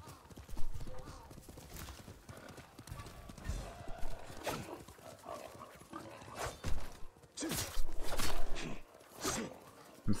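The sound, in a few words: horse hooves walking in a video game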